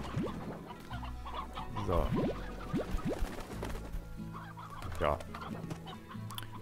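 Roosters in the video game Slime Rancher cluck in short, choppy bursts and rising squawks, close and fairly loud, over a low background hum, while a voice speaks briefly.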